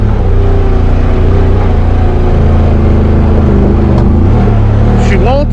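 Honda Talon UTV with Live Valve suspension and Tusk 30-inch Megabite tires, its engine droning steadily as it climbs a wooded hill trail in Marienville, with a rise in pitch near the end; a person talks over it throughout.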